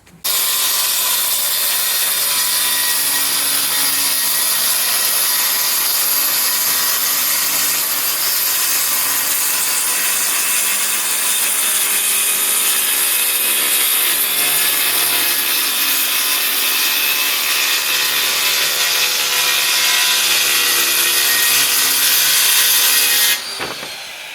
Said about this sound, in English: we're going to go ahead and cut up these sheets of OSB sheathing into strips